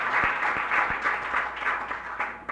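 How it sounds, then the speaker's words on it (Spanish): An audience at a preparatory school event claps in a fairly steady, moderately loud wash of applause, with a few sharper individual claps standing out near the start. "el cual pido un fuerte aplauso para él."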